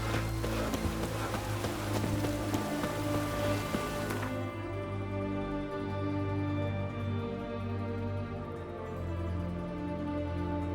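Rain falls in The Witcher 3: Wild Hunt, a broad steady hiss of drops over a bed of tonal game music, with the bright rain wash cutting away abruptly midway, leaving the music alone.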